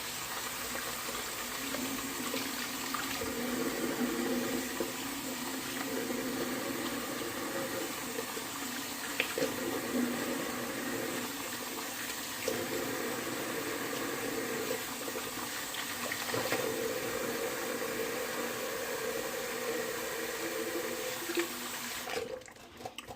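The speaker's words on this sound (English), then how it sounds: "So I'm going to go ahead and do a cold water rinse." Steady running cold tap water splashing into a sink for a post-shave rinse, continuous and moderately loud, ending with a brief clunk.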